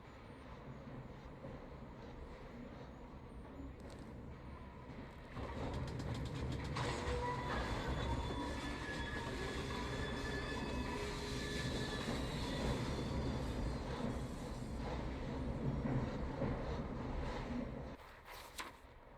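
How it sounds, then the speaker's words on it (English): A train runs along the rails in Assassin's Creed Syndicate, a steady low rumble that swells louder midway, with faint rhythmic clatter and squeal, continuous and fairly close before easing at the end. "We fixed up the train for you."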